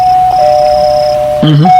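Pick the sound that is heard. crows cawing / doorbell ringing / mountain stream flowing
doorbell ringing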